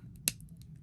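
Scissors close once in a single sharp snip through SoftFlex beading wire, a brief, close click in an otherwise quiet moment.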